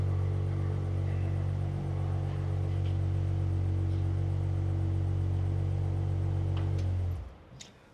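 A Ferrari 12Cilindri V12 holds a loud, steady, droning rumble at close range for about seven seconds, then cuts off abruptly, leaving near quiet.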